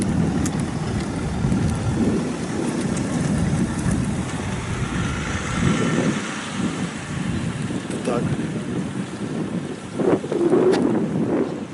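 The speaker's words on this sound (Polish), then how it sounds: "tu teraz wiatr się zmaga" Steady wind roars and buffets the microphone without letup at a harbour, a constant low rushing noise with occasional stronger gusts.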